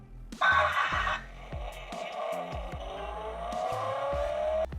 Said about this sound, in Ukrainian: кнопка звук імітації двигуна